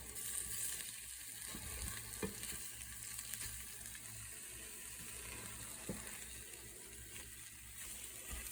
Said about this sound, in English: Let the eggs start to sizzle